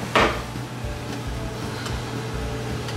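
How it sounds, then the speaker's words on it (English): A spoon clanks sharply once against a homebrew container while scooping out brewing ingredients, followed by a few faint taps over a steady background hum. "you use a spoon to get it out"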